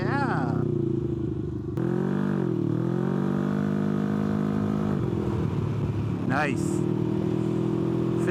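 Can-Am Ryker three-wheeled motorcycle on the road, its engine humming steadily up close with shifts in pitch as it changes speed, while a rider's voice briefly comes through over it.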